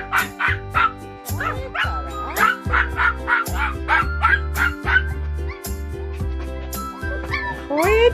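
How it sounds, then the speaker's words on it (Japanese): Pomeranian dogs bark in sharp repeated yips and high whimpers, close and fairly loud, in a continuous excited run with brief pauses, while a person speaks occasionally. "吠えたらあかん。"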